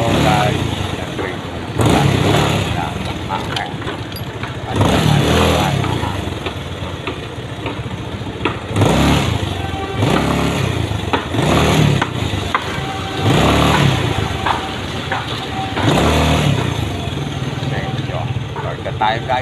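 A motorcycle riding along a road wet from earlier rain, its engine droning steadily with repeated louder surges of revving, heard close and continuous.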